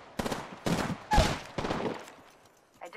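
Automatic weapon fire in the battle royale game Apex Legends comes as four short, close bursts of shots spaced about half a second apart, then fades to quiet.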